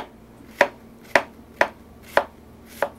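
A knife slices an onion thinly on a cutting board in five evenly spaced, crisp strokes about half a second apart, close and clear with no talking.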